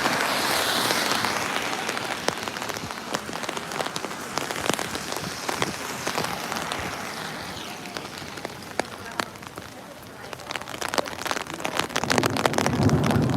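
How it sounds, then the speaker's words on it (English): Rain falls outdoors in a thunderstorm, pattering densely on surfaces with sharp individual drops, and a low rumble of thunder swells near the end. "Oh, nice thunder."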